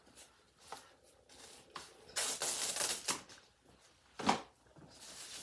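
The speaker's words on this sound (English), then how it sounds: "Put on my plastic wrap." Plastic wrap is pulled and handled nearby, giving soft crinkles and rustles with a few louder crackling bursts and tearing sounds, fairly quiet overall.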